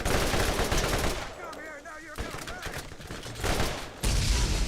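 A Double Anarchy gun in Borderlands fires dense rapid bursts, loud and close, with brief gaps where a voice and game sounds come through before the shooting resumes.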